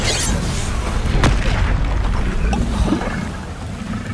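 A Confringo fire spell bursts in a Hogwarts Legacy duel, a deep, rumbling explosion with a sharp crack near the start, rolling boom and wash of noise sustained throughout.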